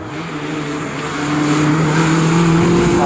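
An MG race car laps Snetterton circuit during a Cockshoot Cup race, its engine droning loudly and swelling as it nears, with the pitch rising as it accelerates past.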